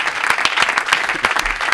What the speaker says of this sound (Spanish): Un aplauso para ese señor del cartel